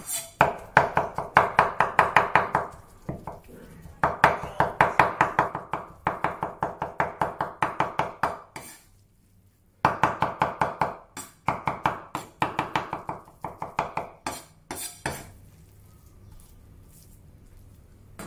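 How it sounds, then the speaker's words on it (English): Fish meat is minced finely with a knife on a chopping board, rapid rhythmic chopping in several bursts separated by short pauses, close and clear with no talking. "place the fish meat on the chopping board and mince it finely."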